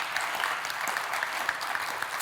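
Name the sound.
audience applause for the panel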